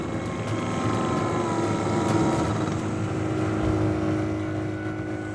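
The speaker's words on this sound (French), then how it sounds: "Le petit moteur est à la peine." A small outboard motor drones steadily as it strains against swirling, reversing currents on a jungle river in Borneo, pushing a raft convoy; the engine hum is continuous and close, with no voices.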